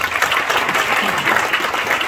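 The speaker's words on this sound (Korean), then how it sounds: "박수 한번 해주시기 바랍니다." A seated audience at a gathering welcomes guests from Israel with a sustained round of applause, a thick, even roar of many hands clapping at a fairly loud level throughout.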